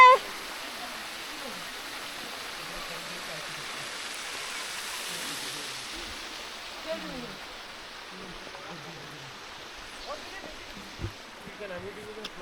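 Water flowing at Seven Sisters Falls in Cherrapunji, a steady broad rushing wash heard at moderate distance, with someone speaking over it throughout.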